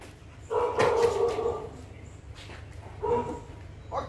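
A Bull Terrier gives a few sharp barks at close range during obedience training, two or three bursts with short pauses between them.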